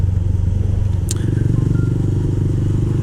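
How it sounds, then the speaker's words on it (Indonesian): A motorcycle with water in its exhaust after a flood idles roughly and revs with a close, loud, steady putter and a brief sputtering crackle partway through. "Knalpotnya kemasukan air, pas digas air semua yang muncrat Pak."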